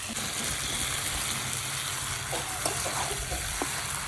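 Taro pieces go into chicken braising in a wok, producing a steady loud close sizzle with a few soft scraping and clinking touches near the end and no speech.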